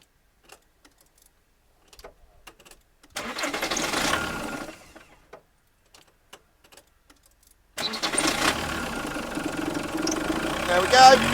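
A car engine cranks after a snapped cambelt repair, with clicks and short silences before two long churning bursts, the last catching and running rough, close by.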